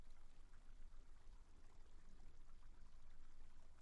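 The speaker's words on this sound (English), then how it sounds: "I'm sure I can hear running water." Running water in a reputedly haunted town, a soft, continuous pouring trickle at low level, steady with slight fluctuations and no voices.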